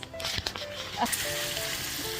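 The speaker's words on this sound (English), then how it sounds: "As my bacon's frying." Close sizzling of bacon and butter frying in a pot, with a voice talking over it and a few clatters.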